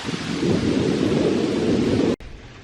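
Loud, roaring wind gusts from a hurricane buffet the microphone in a continuous rumble, then cut off abruptly near the end, leaving quieter background noise.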